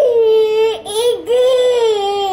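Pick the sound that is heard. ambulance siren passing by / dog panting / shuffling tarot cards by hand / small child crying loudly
small child crying loudly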